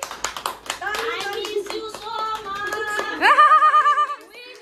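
Hands clapping in a burst of applause at a birthday and farewell celebration, lively and close, with children's voices and some laughter mixed in and a brief high tone near the end.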